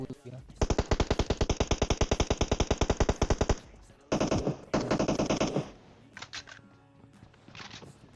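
Rapid automatic gunfire in PUBG rattles in a long fast burst, then shorter bursts and scattered shots fading into quieter background clatter.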